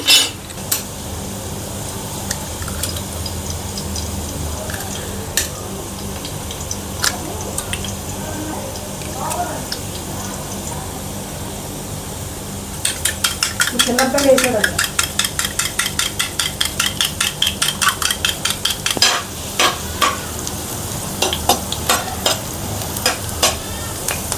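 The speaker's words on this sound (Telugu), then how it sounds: "ఇవి బాగా ఫ్రై అవ్వాలండి, అంటే క్యారెట్స్ పచ్చిదనం పోయే వరకు ఫ్రై అవ్వాలి." Carrots fry in a pan with a steady low sizzle and occasional utensil taps, followed by a burst of rapid rhythmic clinking as eggs are beaten in a bowl with a little salt, with a voice speaking at points.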